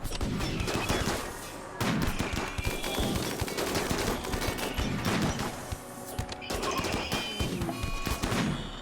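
Slug turrets in RimWorld Biotech fire in rapid, crackling bursts, with loud clusters of sharp shots broken by brief pauses and then resuming.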